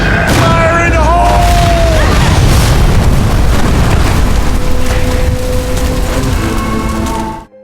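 An explosion in a scene from the zombie TV show Z Nation: a loud, heavy boom with rumbling and crackling debris that continues for several seconds, with voices briefly at the start.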